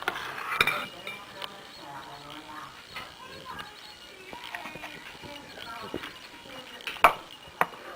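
A spoon clinks and taps against cupcake holders and a bowl as cream cheese mixture is portioned out, a scattered series of close, sharp metallic ticks, with talk in the background.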